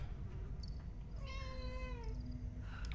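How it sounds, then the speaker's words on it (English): A cat meows in one drawn-out call with wavering harmonics over a steady low rumble of game audio and room noise, then falls quiet. "Cat!"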